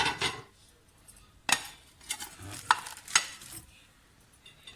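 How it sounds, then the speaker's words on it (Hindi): Glass dishes are stacked one onto another while being packed, giving a series of sharp clinks and knocks at close range, spaced out between quieter handling noise. "अब हम दूसरी शिफ्ट अपनी रख रहे हैं बर्तनों की,"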